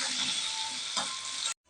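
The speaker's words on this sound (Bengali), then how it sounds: "দিচ্ছি কুচনো টমেটো আর কুচনো কাঁচা লঙ্কা। দিয়ে খুব ভালোভাবে ভেজে নিতে হবে।" Chopped tomato and green chilli fry for an egg curry, a brief bright, hissing sizzle that cuts off abruptly.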